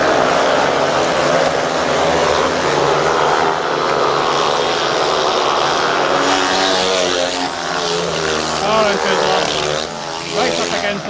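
Speedway motorcycles roar down the straight close against the fence, a loud, continuous engine howl that rises and wavers throughout, with a commentator talking over it.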